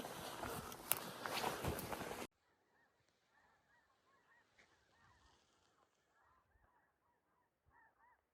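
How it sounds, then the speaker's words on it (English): Migrating snow geese honking faintly from a distance over open Alaskan river country along the Yukon, a scattered chorus of calls after a burst of loud wind or handling noise at the start. "The snow geese are migrating."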